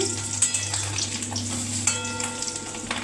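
Small fish roe fritters fry in hot oil in a kadai, a loud, continuous crackling sizzle broken by sharp spatula taps and scrapes as they are turned over.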